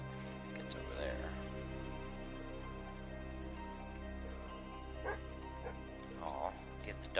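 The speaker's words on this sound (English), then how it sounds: "Aw, give the dog some pats." Dog in Daggerfall Unity makes short yips and soft whimpering barks, brief and fairly quiet, mixed over steady game background music and ambience.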